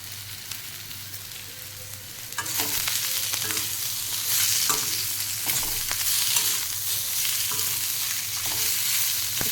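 Chopped onion frying in oil in a pan for an egg masala, a quiet hiss that swells into a loud, steady sizzle, broken by the scrape and knock of a spoon stirring.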